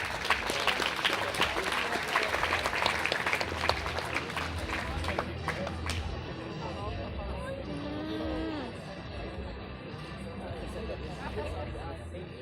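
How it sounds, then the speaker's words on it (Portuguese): An audience at a tech careers conference in Brazil applauds a speaker. Dense clapping fills the first half, then thins out and fades as chatter and other room noise take over. "Então, uma salva de palmas para o Guilherme Noberto."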